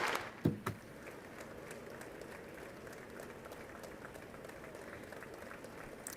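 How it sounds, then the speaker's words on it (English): A chamber audience at a presidential address to Congress applauds the Supreme Court justices' entrance with steady, sustained clapping and a few sharper bursts near the start. "they get their own special entrance and applause"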